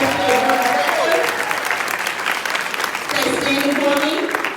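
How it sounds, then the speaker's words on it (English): An audience at a welcome speech claps steadily, with a few cheers and voices mixed into the dense applause. "Let's give them a round of applause."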